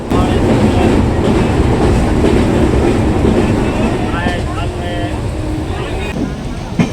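Passenger train on rails in India heard from inside, a continuous loud rumbling roar with rattling wagons throughout, easing slightly toward the end, with a voice talking faintly under it.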